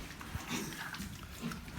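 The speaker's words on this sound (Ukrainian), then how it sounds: "Малі поросята п'ють соска, звісно, ну трошки неуклюже." Small piglets clumsily suckling from a teat on a farm, a busy mix of soft grunts, snuffling and wet sucking noises continuing throughout at close range, fairly quiet.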